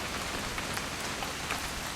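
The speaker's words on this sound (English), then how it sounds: "It's gonna rain the whole weekend," Steady rain falls in the video game What Remains of Edith Finch, a dense even patter of drops hitting surfaces, moderately loud and unbroken, with no voices.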